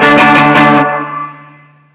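Electric guitar playing the close of a song's chorus: a loud distorted strummed chord cut off sharply, leaving a single note ringing and fading out, heard alone.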